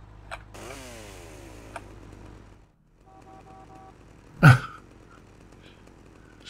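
Chainsaw revving in GTA Vice City, a buzzing engine rising in pitch before cutting out, followed by a sharp loud burst and lighter mechanical whirring.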